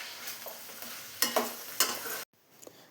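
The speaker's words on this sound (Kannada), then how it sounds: "ಬೇಯಿಸಿದ ಕಾಳನ್ನು ಫ್ರೈಗೆ ಹಾಕಿ ಮೂರು ನಿಮಿಷ ಫ್ರೈ ಮಾಡ್ಕೊಳ್ಳಿ" Boiled sprouted gram frying and being stirred in a pan, with scraping spatula strokes over a steady sizzle that cuts off abruptly near the end.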